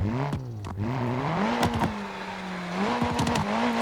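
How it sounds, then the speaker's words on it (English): A built drift car revs hard in a parking lot while drifting, its engine note close and continuous, climbing and dipping with the throttle, with a few sharp clattering scrapes along the way. "I'm gonna do a couple of drifts around the parking lot"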